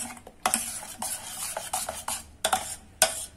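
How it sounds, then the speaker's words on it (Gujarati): A spoon stirs and mixes a thick date-tamarind chutney, giving a series of distinct close scraping and clinking strokes against the pot in an uneven rhythm, some sharper than others, with no talking. "ત્યારબાદ આ બધું મિક્સ કરી દેશું."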